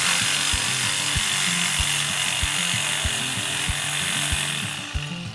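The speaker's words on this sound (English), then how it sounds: "We're using our reciprocating saw to take out this post here." A reciprocating saw cuts through an old wooden post during landscaping demolition, a loud continuous buzzing rasp with a steady rapid stroke rhythm that tapers off at the end.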